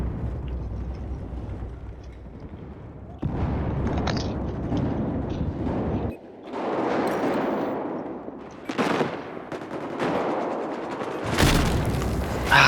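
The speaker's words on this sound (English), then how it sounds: "That grenade did not look close enough to kill me." A grenade blast from Battlefield 4 gameplay, a heavy boom amid loud chaotic gunfire and further bursts in a crowded indoor room, with several loud impacts.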